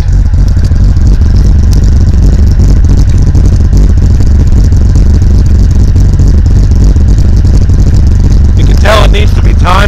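A 1977 Datsun 280Z engine runs with a loud, steady low exhaust rumble and mechanical clatter, close by and continuous, with a brief higher burst near the end.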